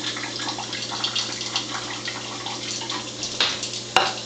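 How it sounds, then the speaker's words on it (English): Acidic water pours from a Tyent water ionizer in a steady, close, continuous splashing stream, with a couple of sharper clinks near the end. "I'm going to also pour some acidic water at the same time."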